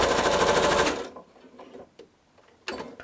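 A sewing machine stitches a quilt block in a fast, loud mechanical run lasting about a second, then stops, followed by a few quiet clicks and a short final burst of stitching.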